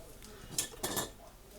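A metal lid set onto the rim of a hot glass canning jar of collard greens cooked with smoked neckbones, giving a couple of close, light clinks and scrapes in a quiet kitchen.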